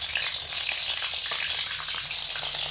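Eggplant pieces frying in well-heated mustard oil, a steady, loud, continuous sizzle that hisses on without a break, close by and with no voices over it.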